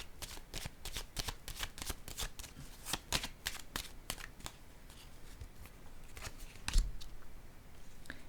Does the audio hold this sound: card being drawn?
yes